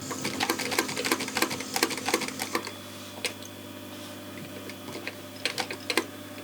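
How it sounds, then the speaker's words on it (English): Industrial sewing machine stitching a short back tack on a Land Rover Defender 90 soft-top seat centre panel, a quick run of rhythmic needle clatter followed by a pause and another brief burst, close and steady over a low motor hum. "So I'll make a very short back tack."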